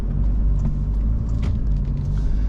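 Low engine and road rumble inside a 2021 Toyota Hilux Rogue pickup while driving, a steady loud drone with faint cabin rattles, no speech.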